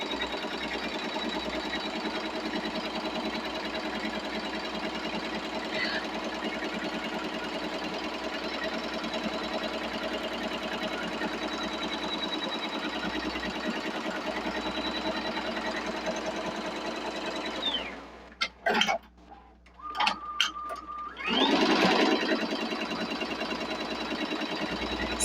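A Tajima Sai embroidery machine stitches a baby bodysuit, running as a steady mechanical hum with a fast rhythmic needle chatter, then stopping near the end with a few brief clunks and a short beep.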